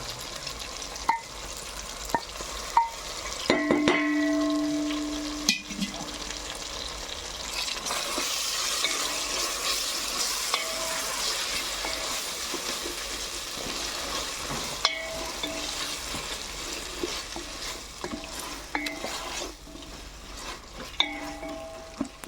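Ginger, garlic and coconut paste frying in a pot for mushroom pulao, with a steady sizzle, scraping stir strokes and a few clinks of a spoon against the pan, close and continuous with no talking.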